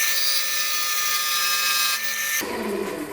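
A power tool whines steadily as it cuts a piece of a Christmas ornament, then the pitch drops abruptly near the end as the cut changes.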